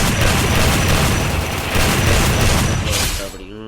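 Rapid gunfire in a shooting practice mode of a mobile video game, with unlimited bullets, rattles as a dense, continuous loud barrage of shots that cuts off near the end.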